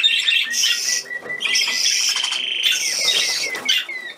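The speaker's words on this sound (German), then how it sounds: "Ein kleiner Taschenvogel bist du" Small pet budgerigar chirps and twitters close by in bright, continuous bursts of high warbling, with brief pauses between phrases and no talking.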